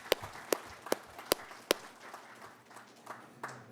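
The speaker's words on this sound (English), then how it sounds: "please give a round of applause for our staff and our community partners who made it happen" At a community reentry panel event, a handful of sharp, evenly spaced claps ring out in a quiet room, then soften into faint scattered clapping.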